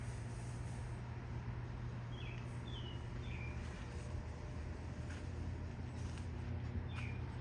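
A few brief, high chirps from small birds in a garden, spaced apart over a constant low background hum.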